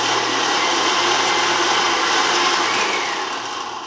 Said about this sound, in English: let's go ahead and pulse this a little bit